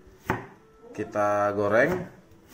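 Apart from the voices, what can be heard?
cutting potatoes and egg with a knife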